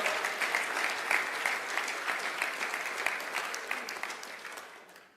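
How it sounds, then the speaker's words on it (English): Audience applause following a sermon by Mar Mari Emmanuel, a dense sustained clapping from a crowd that holds steady and then tapers off at the end. "hand of applause for our people in America"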